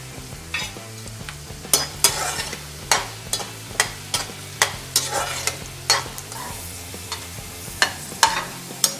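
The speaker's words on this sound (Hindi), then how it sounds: "अब हम गाजर डालेंगे।" Carrots fry in a pan for a mixed vegetable sabzi, with a steady sizzle under a run of sharp, regular scrapes and clatters as a spatula stirs them, close and moderately loud.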